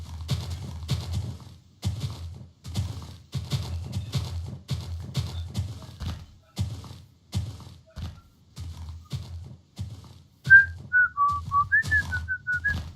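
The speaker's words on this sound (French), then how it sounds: "J'arrête de siffler, la la la." Someone whistles a short melodic tune near the end, after a series of rhythmic thumps and knocks that sound like hoofbeats or footsteps.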